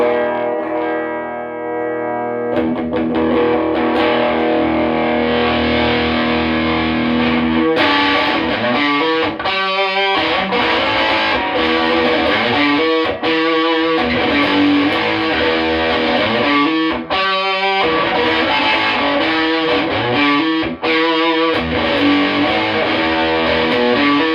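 A vintage Gibson Les Paul (SG) Junior electric guitar plays through a Marshall Guvnor distortion pedal into a 100-watt Marshall amp, loud and continuous with heavily distorted chords and brief stops.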